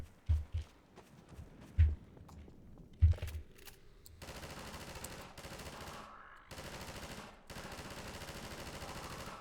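Gunfire in the video game Half-Life 2: a few heavy thumping shots, then sustained rapid automatic fire in bursts with brief gaps, moderately loud and without talking.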